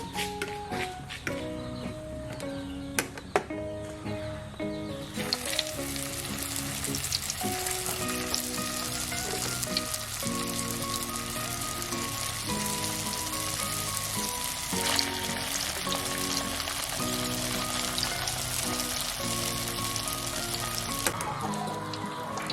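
Tuna fish lumpia frying in oil, a constant dense crackle and sizzle heard under loud background music throughout, with no clear talking.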